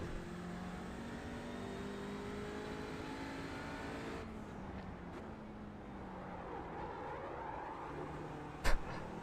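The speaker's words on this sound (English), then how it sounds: "Such a horrific sound coming from the car" A race car engine in the iRacing video game drones steadily with rising and falling pitch as it shifts gears, followed by a sharp bump near the end.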